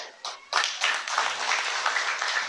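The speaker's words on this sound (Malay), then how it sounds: "isteri dia tepuk tangan kuat-kuat" At a Parti Warisan political rally in a village, a wife claps her hands loudly, a close, steady run of fast claps with a short pause near the start, under faint background voices.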